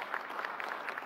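Faint, steady applause from an audience welcoming guests onto the stage at a televised Hindi panel event on the constitution and politics, a short continuous patter of clapping.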